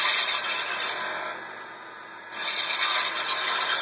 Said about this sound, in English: Again, I'm around 2100 RPM. I'm using a sharp spindle gouge.